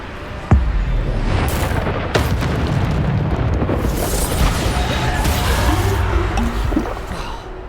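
Bombarda spell explosions in the video game Hogwarts Legacy: sharp booms burst out of a dense, constant roar of game effects, repeating every second or two, loud and close, with no speech.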